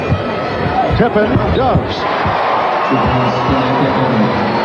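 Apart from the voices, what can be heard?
basketball arena crowd urging a player to shoot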